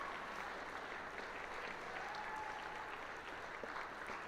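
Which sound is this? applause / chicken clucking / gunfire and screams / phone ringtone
applause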